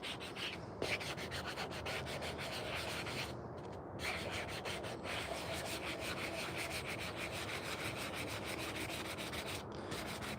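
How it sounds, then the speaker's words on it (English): Steady scratchy rubbing of sandpaper on a wooden spoon, continuous and close, with brief pauses between strokes. "The more sanding you do, the deeper it gets."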